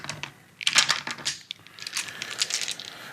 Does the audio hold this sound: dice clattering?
yes